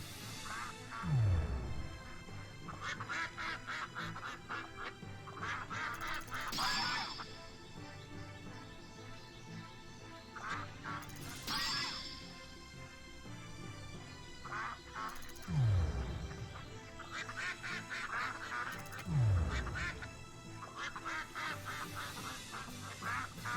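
Ducks in the video game Shenmue 3 keep up a quiet stream of quacks over background game music and effects, with a few swooping game sounds recurring; no one speaks.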